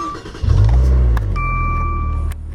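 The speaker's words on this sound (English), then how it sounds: "One thing I definitely like about it is the sound of the engine." Maserati Ghibli S Q4 (2015) engine idling then swelling into a loud, close rev with a deep low rumble, settling to a steady throb while a faint tone sounds over it.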